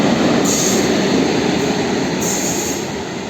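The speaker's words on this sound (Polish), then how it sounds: "Ładowny skład" A loaded freight train of coal wagons rolls past close by, a loud continuous rumble of wheels on rail with high metallic squeal bursts riding over it, fading slightly at the end.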